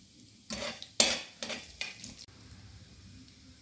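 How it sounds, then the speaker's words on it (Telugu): A teaspoon of cumin seeds dropped into hot ghee in a pan, bursts of sizzle with spoon scrapes and stirring clinks over several seconds, then a softer lingering fry. "నెయ్యి వేడెక్కాక 1 టీ స్పూన్ జీలకర్ర వేసుకుని వేయించుకోవాలి."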